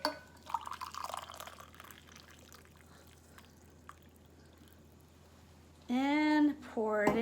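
Heated water is poured from a kettle, a brief trickle and splash near the start followed by quiet drips. A voice speaks near the end.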